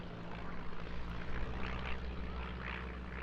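A propeller aircraft performs at an airshow, its engine drone steady and moderately loud with a rising, surging whine as it maneuvers overhead, heard from the crowd.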